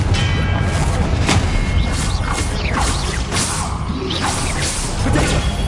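Spells are cast in Hogwarts Legacy in a dense flurry of whooshes, magical zaps and explosive booms in quick succession, loud and continuous with no talk.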